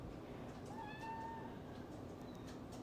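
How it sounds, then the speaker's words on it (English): A single faint cat meow, thin and drawn out, rising and falling against a quiet hissing background. "I don't know if you guys heard that, but Bean is meowing"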